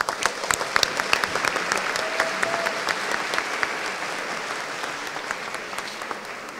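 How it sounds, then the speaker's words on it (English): At a school district ceremony honoring classified employees of the year, an audience gives sustained applause: a broad steady roar of clapping with distinct individual claps popping out, holding even loudness for several seconds. "Let's give them a round of applause."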